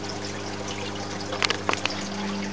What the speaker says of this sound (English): I'm just filling up the tank at the bottom